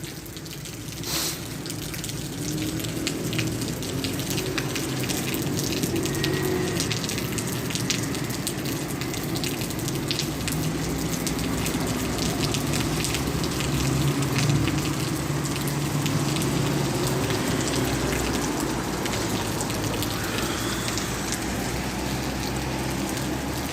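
Heavy downpour drumming on surfaces beside closed shops, heard while sheltering during a bicycle tour of Turkey; a loud, dense, steady hiss of rain with splashing drips, continuous throughout with no speech.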